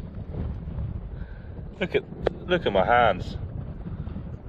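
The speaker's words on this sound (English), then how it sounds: "sorry about the wind" Wind buffets a microphone on an estuary shore while someone forages for shellfish, a constant low rumbling roar through the whole clip. A person speaks briefly over it.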